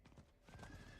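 Horse in a video game (Season of the Malignant, Druid) whinnies and its hooves clop in a steady rhythm, close and clear with a game tone ringing underneath.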